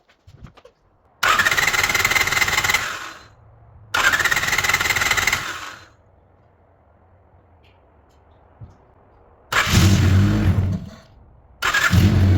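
A car engine cranking and firing up after about half an hour of battery charging, in four loud bursts separated by pauses, each catching and running for a second or two before cutting out.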